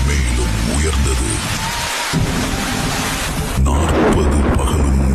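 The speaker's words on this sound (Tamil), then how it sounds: "பூமியின் மேல் மழை வெள்ளமாக கொட்டியது." Heavy storm rain roars steadily and loudly, with deep thunder rumbling through it and swelling again near the end of the stretch.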